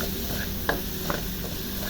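Young ginger, garlic and onion sauté in hot rendered pork fat left from crisping pork for sinigang, giving a steady close sizzle with a few light clinks of a stirring utensil against the pan.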